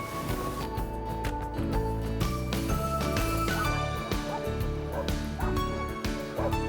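Several dogs bark loudly and excitedly close by, in overlapping bursts mixed with high yips and whimpers, in a floating fishing village near Ha Long, Vietnam.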